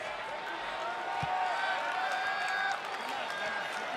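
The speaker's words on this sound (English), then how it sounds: "And the WWE Universe with a great round of applause for Seth Rollins" A WWE wrestling arena crowd applauds and roars for Seth Rollins, a steady, distant wash of crowd noise under a commentator's voice.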